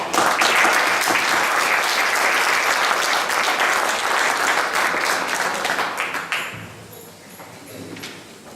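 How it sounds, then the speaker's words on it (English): An audience applauds graduating students of a Young Entrepreneurs Academy, a dense, loud sustained clapping from a large crowd that thins and fades toward the end. "Let's give these students another huge round of applause."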